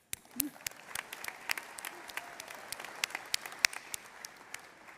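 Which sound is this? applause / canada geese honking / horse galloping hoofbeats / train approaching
applause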